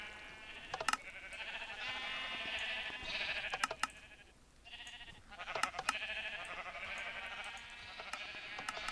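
Sheep in a video game bleat over and over, with several close, fairly loud bleats overlapping one another across a steady game background.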